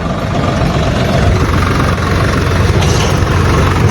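A tractor engine runs close by, a loud, steady low rumble and chug that continues without a break.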